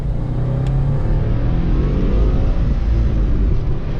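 A Subaru in sport mode makes a quick acceleration pull from inside the cabin, its engine a deep, steady rumble that holds strong and climbs only slightly for a few seconds with no talking.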